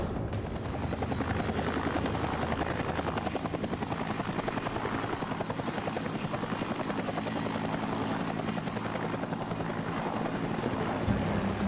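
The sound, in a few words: military helicopter in flight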